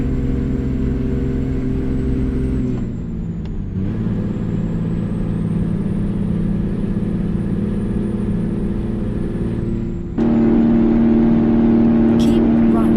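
In American Truck Simulator, a heavy truck's diesel engine drones with a low, steady rumble. The pitch and load shift partway through, then an engine brake kicks in as a louder, harsher sustained roar that stays up to the end.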